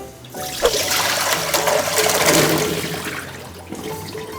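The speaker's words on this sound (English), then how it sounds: "we're gonna drain these potatoes and get them into the water" Water gushes as potatoes are drained, a loud rushing pour that swells then tapers into trickles, close by with no talking.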